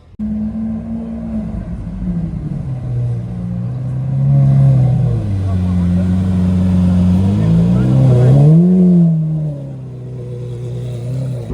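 Rare hypercars roll into the MODA Miami car event, their engines rumbling and revving up and down in deep, shifting tones, loud and close, with voices talking over them.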